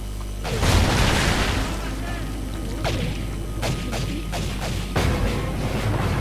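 Explosions go off in the video game Ghost Recon: a heavy boom followed by several sharper blasts and pops, loud and close, with people talking over the game sound.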